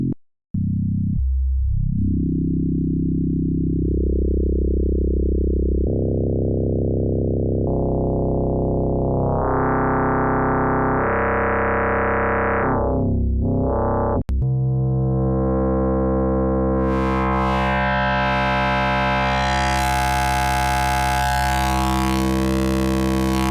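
An FM synthesizer tone with its modulator itself modulated steps through a series of sustained, buzzy pitches that rise and shift in timbre, then turns into a brighter, denser metallic drone, loud and alone for over twenty seconds.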